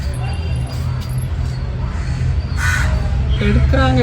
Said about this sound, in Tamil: காக்கா வந்துட்டாங்க, பார்க்குறாங்க